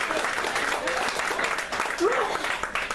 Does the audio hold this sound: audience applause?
yes